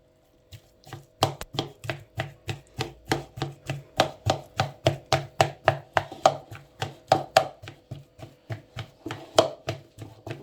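Dough is crushed into crumbs by hand, giving a steady rhythmic series of close, crisp crunching pulses, roughly two per second, with no talk over them.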